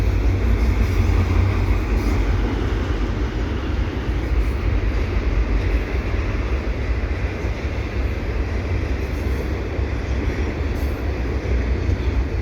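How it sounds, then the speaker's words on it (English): A CP fast freight train rumbles past at the Dorval ramps on a Sunday evening, a steady, loud, continuous roar of rolling wagons that holds for the whole stretch without a break. "And I got a CP fast freight. Maybe 120 coming in around 6:30 p.m. on the Sunday evening"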